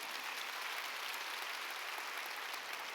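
Church congregation applauding during a Wednesday worship service, a dense, steady wash of many hands clapping at once, filling the room evenly throughout with no voices rising above it.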